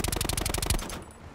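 Rapid automatic gunfire aimed at a helicopter in Call of Duty Blackout (Black Ops 4 battle royale), a steady burst of about a dozen evenly spaced shots that stops abruptly and leaves a faint tail.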